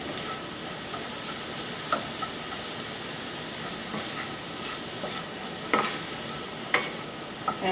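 Vegetables stir-fry in oil with a steady, soft sizzle and hiss, broken by a few faint clicks and scrapes of a utensil against the pan.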